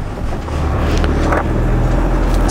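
A motorhome pulls away and drives off, its engine and road rumble loud and steady with a constant low drone and wind hiss, and no talking.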